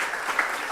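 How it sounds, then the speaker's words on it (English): A brief burst of audience applause for a guest at a quality-week opening ceremony, a steady wash of many hands clapping at moderate distance. "let's clap for her for being here"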